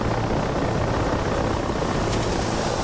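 Steady, loud rotor and turbine drone of a helicopter gunship in DCS, a continuous broadband roar with no gaps and no talk.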